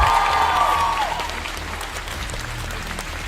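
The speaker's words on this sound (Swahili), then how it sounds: "Clap your hand for Jesus." Many worshippers clap their hands for Jesus in a church, the applause full and continuous at first and then thinning slightly toward the end, with a held musical tone fading out early on.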